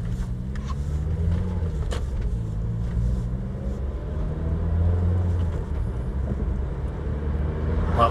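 Suzuki Grand Vitara engine at low revs, a low rumbling drone with wavering tones that rise and dip slightly, heard from inside the vehicle with occasional clicks and no talking.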